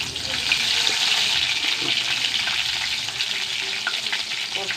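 Hot oil sizzles loudly and continuously in a pan as curry leaves fry with mustard seeds, a steady crackling hiss with small pops scattered through it.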